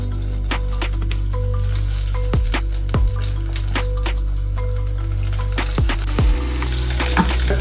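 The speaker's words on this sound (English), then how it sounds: "From there, we're gonna go to the fryer. We're gonna fry them for probably about 2-3 minutes." Battered, panko-coated enoki mushrooms deep frying in a fryer produce a loud, dense bubbling sizzle close up, with a low rumbling boil and scattered sharp pops and crackles throughout, and no talking.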